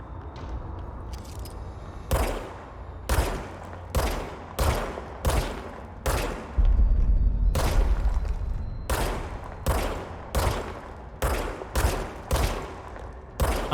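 Service weapon gunfire in Control, a run of sharp, loud shots fired singly and in quick pairs at a fairly regular pace, with a brief continuous rumbling blast partway through.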